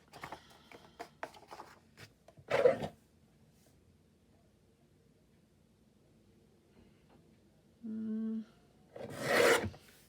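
Book pages are trimmed with a paper cutter, heard as two distinct rasping strokes apart from lighter taps and shuffling, with quiet pauses between them.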